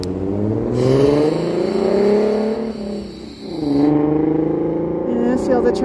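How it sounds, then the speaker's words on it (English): Cars stream past along a road during an outdoor walk, their engine hum rising and falling as vehicles pass close by, steady and fairly loud throughout. "see all the traffic?"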